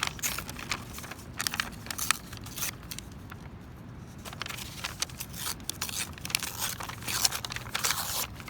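Paper torn out by hand, repeated crisp ripping and crinkling bursts in irregular succession, close and fairly quiet, with a short lull midway.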